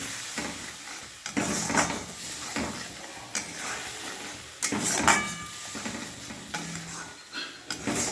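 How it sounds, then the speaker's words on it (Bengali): Spice paste being sautéed in a pan over a medium flame for crab malaikari, a soft sizzle broken by repeated stirring scrapes and clatters, fairly quiet with no talk. "গ্যাসের ফ্লেম মিডিয়ামে রেখে আমি মশলাটা খুব ভালোভাবে 4-5 মিনিট মতো আমি কষে নেব"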